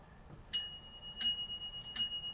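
Three bright metallic chimes of a pocket watch repeater striking on a bell, about two-thirds of a second apart, each ringing out clearly and decaying in a quiet room.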